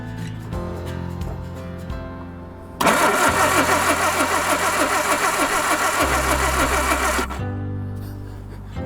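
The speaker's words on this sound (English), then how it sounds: "Okay, let's try cranking it." A classic Mini car engine cranks with a labored rhythmic whir, then bursts into loud running for several seconds before dropping back to a quieter, lower turning sound, heard up close without talk.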